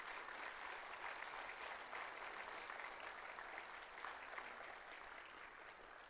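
An audience at a Central Arizona symphony concert applauds with steady, even clapping that is somewhat distant and continues for about six seconds with no voices.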